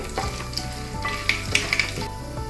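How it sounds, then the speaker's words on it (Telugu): Dried red chillies, cashews and lentils (urad dal and chana dal, with mustard seeds) fry in hot oil for cashew upma, giving a steady close sizzle with small crackles and pops throughout. "ఎండుమిరపకాయలు, జీడిపప్పు, ఇవి కొంచెం వేయించుకోవాలండి"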